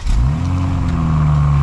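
A 2024 BMW 840i xDrive coupe engine fires up by remote start, catching quickly with a brief rise in pitch, then settling into a smooth, steady idle heard close up, with no talking.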